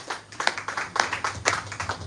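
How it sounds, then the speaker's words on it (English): Audience applause for a panel of speakers at the close of a live-streamed session, heard as scattered, moderately quiet clapping with a few louder hand claps standing out over about two seconds. "A round of applause for our panelists"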